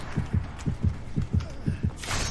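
The thumping heartbeat from the Dead by Daylight video game pulses in steady double beats, low and prominent, over a faint game background with a burst of noise at the end.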